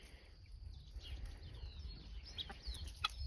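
Chickens clucking softly in the background on an off-grid homestead, with a few brief higher calls over a low rumbling ambience.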